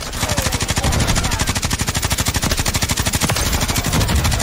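Rapid, sustained light machine gun fire in Call of Duty, a dense steady stream of loud close shots with only a brief hitch near the middle, heard alone without talk.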